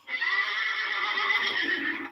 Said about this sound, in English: Let's hear the horses one more time.